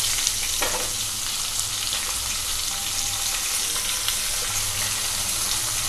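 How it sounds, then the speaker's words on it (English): Diced onions hit hot oil with mustard seeds and fenugreek leaves, producing a loud, steady crackling sizzle that holds throughout, with an occasional faint clink of a utensil and no voices. "At this stage we have to add the diced onions to this."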